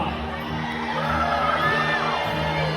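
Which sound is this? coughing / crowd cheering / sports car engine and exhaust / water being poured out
crowd cheering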